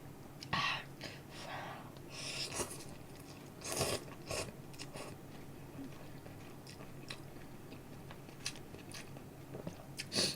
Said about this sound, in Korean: 면발은 그냥 곤약 먹는 느낌이랄까요?